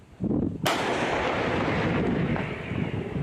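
An AHS Krab self-propelled howitzer fires its 155 mm gun in a single heavy blast that cracks out sharply, then a long rumbling roar and echo fill the rest of the clip.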